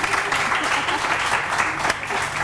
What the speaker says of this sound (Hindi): अपने अपने मतलब की चीजों में तालियां बजा देते हो